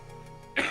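A single close, loud cough or throat-clearing burst erupts into the microphone after a quiet stretch.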